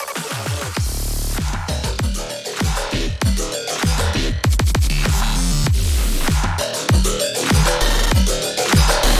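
A new synth instrument designed in Serum plays within a mid-tempo electronic demo track, with punchy repeating bass hits and bright layered tones driving a steady beat, loud and continuous with no voices.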